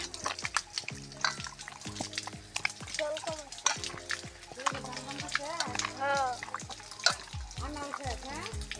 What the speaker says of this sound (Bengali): তো দেখো এভাবে বারবার ধুতে হবে ধুতে হবে ধুতে থাকো ধুতে থাকো ধু অনেকবার দেখো সাদা জলটা বারবার ফেলে দিতে হবে জল আসছে রে